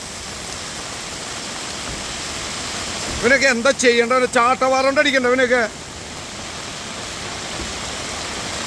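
Heavy rain pours steadily onto a road in Thrissur during road tarring work, a dense, even hiss throughout, with someone speaking briefly over it.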